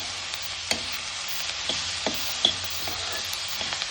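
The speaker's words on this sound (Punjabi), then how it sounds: "ਸ਼ਿਮਲਾ ਮਿਰਚ ਦੇ ਛੋਟੇ ਛੋਟੇ ਪੀਸ ਬਣਾ ਲਏ ਹੁਣ ਇਹਨਾਂ ਨੂੰ ਆਪਾਂ ਚੰਗੀ ਤਰ੍ਹਾਂ ਪਕਾ ਲੈਣੇ ਆ" Small chopped capsicum pieces fry in a pan, a steady close sizzle broken by several sharp stirring clacks and scrapes at irregular intervals.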